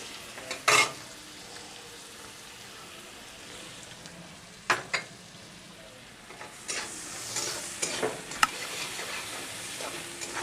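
Cumin seeds, chopped onion, ginger and garlic fry in a pan for palak paneer, a low continuous sizzle punctuated by a few sharp clatters and stirring scrapes, close by.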